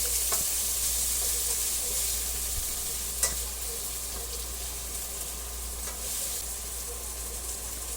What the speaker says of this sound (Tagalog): sunod po natin ang kamatis. Lulutuin po natin ng maigi ang kamatis